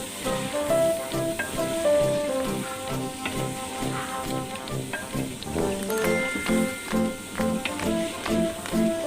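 Chicken stirred with handi masala in a hot pan, a steady loud sizzle with rhythmic scraping and clinking of the spoon against the metal, no voices over it.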